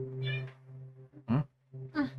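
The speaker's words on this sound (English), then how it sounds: "Yeah, a robot cat." A robot cat meows in the anime Terminator Zero, giving a few short, thin calls that come through faintly beneath a low steady hum and background sound.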